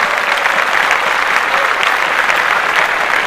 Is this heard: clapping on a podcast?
yes